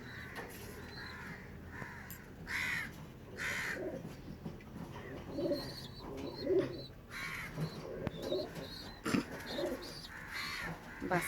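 In a pigeon coop, pigeons coo low and close, mixed with crow caws and other bird calls, under faint quiet talk.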